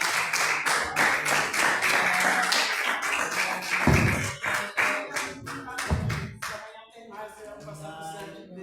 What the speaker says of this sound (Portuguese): as palmas vocês aprendem agora